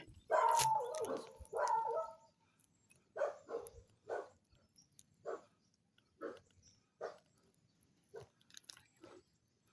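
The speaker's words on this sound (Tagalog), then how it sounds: "May aso, tol." A dog barks in irregular bursts from a short distance, several single woofs spaced a second or so apart after a louder opening pair, with quiet gaps and no talk.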